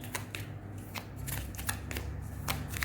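Tarot cards being shuffled by hand up close, heard as quick papery riffles and soft flutters in repeated short bursts, with no talking.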